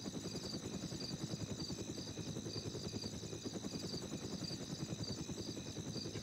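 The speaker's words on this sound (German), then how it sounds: "Ist der Hubschrauber nur eigentlich noch hier irgendwo?" A helicopter in the military video game ArmA: Cold War Assault makes a steady, rapid rotor thrum with a whining engine tone, continuous and fairly faint with no talk.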